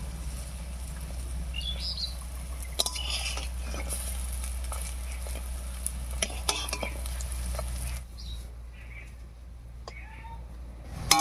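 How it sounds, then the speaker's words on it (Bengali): Lentil fritters frying in oil in a wok, a continuous soft sizzle with clicks of a spatula turning them, birds chirping faintly in the background and brief talk. "উল্টে পাল্টে বড়াগুলো বেশ লাল লাল করে ভেজে নিয়েছি"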